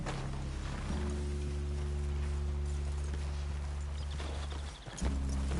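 Horse hooves clop in Red Dead Redemption II as riders arrive and dismount near a hillside cabin, a steady soft clatter over a low droning ambience that stays even, then briefly dips near the end.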